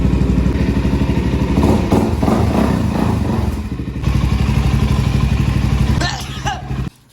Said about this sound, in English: you should start the bike. Get it all warmed up. Cold start.